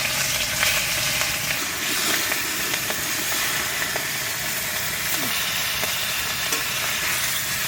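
Hilsa fish coated in salt and turmeric fries in hot oil in a wok, giving a steady, loud sizzle and hiss that continues throughout with no talking.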